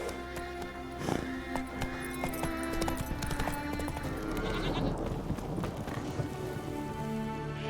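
Roach, a horse in The Witcher 3 video game, gallops through rain, with steady clip-clop hoofbeats over a constant wash of rainfall and faint ambient game sounds, no speech.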